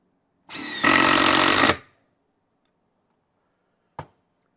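DeWALT DCF870 quiet hydraulic impact driver run briefly in a workshop: a short whirring spin-up that jumps into a dense, steady hammering buzz for about a second, then cuts off, followed later by a single faint click, close and loud.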